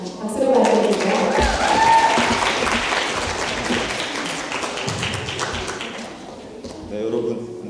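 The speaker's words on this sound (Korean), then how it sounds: "박수로 맞이해주세요." Applause from an audience at a Korean speech contest in Toronto, a dense wash of clapping sustained for several seconds that gradually thins, with voices speaking over it near the start and end.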